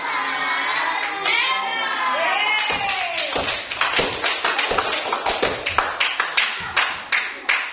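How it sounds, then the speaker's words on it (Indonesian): A group claps after a session, with sharp individual claps that start scattered and then settle into a fairly steady rhythmic beat, following a brief stretch of mixed voices and chatter. "Tangan hebat yuk, tepuk tangan."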